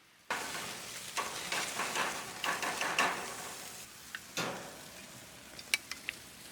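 Steak sizzling in a little oil on a Denali 605 smart grill, a steady close crackling hiss broken by a few sharp pops and ticks, with no talking over it.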